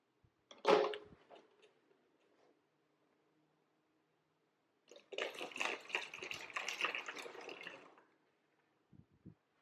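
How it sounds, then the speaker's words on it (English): Fifty milliliters of hydrogen peroxide poured into a water bottle: a brief clink or splash, a pause, then about three seconds of gurgling liquid pouring, close and fairly quiet. "The first thing we're going to do is add 50 milliliters of hydrogen peroxide to the water bottle."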